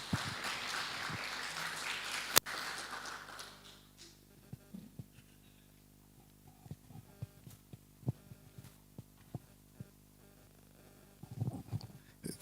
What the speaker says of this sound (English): Let's clap for him as he comes.